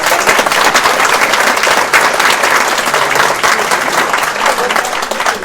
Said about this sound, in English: Let's leave a round of applause for yourselves.